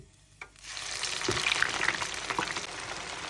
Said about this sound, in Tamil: இந்த வெங்காயம் பொரிஞ்சு வந்துருக்குது.